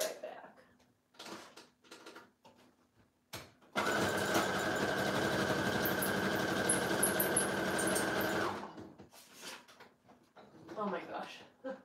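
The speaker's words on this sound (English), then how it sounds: "I'm gonna take this to the sewing machine real quick" A sewing machine stitching around the edges of a book page runs in one loud steady burst of rapid mechanical whirring for several seconds, with quiet talk and handling sounds before and after.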